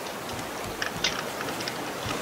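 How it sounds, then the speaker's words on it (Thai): Steady rain falls in the survival video game Raft, a dense, even hiss of drops running through the whole stretch with a few brighter patters, no voices over it. "พอดีเลยฝนตกไม่ต้องรดน้ำ"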